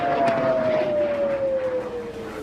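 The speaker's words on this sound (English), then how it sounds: "Explosions lit Israel's night sky and air raid sirens blared." Air raid siren blaring over Israel at night, one long wailing tone slowly sliding downward in pitch, steady and prominent against a broad background rumble.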